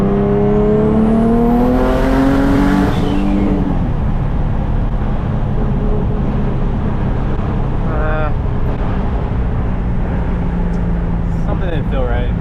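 A Nissan 350Z engine with a freshly fitted manifold revs up loudly and close, its pitch rising, then drops off and runs rough with uneven sputtering catches near the end. Speech is mixed in.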